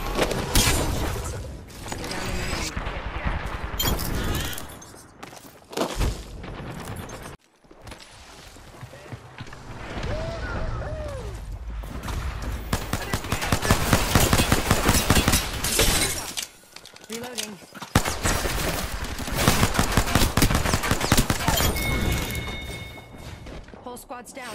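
Apex Legends gameplay packs in bursts of in-game gunfire, impacts and shattering effects amid loud, busy action, with a player talking over much of it.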